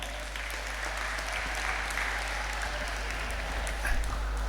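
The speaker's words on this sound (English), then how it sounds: "Please give applause to Surya plus floor." Audience applause at a school dormitory awards gathering, sustained scattered clapping over a low hum, moderately distant and steady for several seconds without talk.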